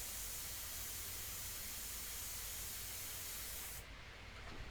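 A Sotar airbrush spraying India ink onto paper in a portrait painting: an even, continuous airy hiss, close and steady, that stops abruptly near the end.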